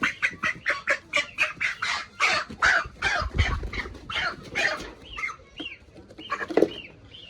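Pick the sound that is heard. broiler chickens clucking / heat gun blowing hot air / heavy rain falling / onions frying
broiler chickens clucking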